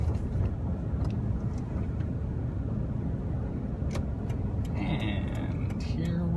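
A car pulling over to the roadside, heard from inside as a steady, loud road and engine rumble, with a few faint ticks and clicks. Someone talks over it.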